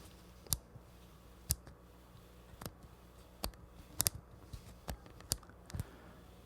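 The metering dial of a Nikon D700 camera clicks sharply as it turns between center-weighted, matrix and spot modes, giving a series of crisp, isolated close-up clicks at uneven intervals over a quiet background.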